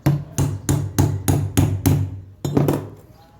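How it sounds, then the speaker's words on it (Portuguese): Sharp metallic taps as a small steel plate strikes a metal part of a homemade tube-crushing machine, seven fairly even knocks followed by a quick double tap, close and loud with no talk. "Ou bater aqui com a chapinha para ver se ela chega mais um pouco para lá"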